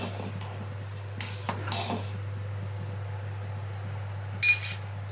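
Pots and utensils clink and clatter in a kitchen while rice cooks, a few sharp metallic knocks spaced apart over a steady low hum, with a brighter clatter near the end.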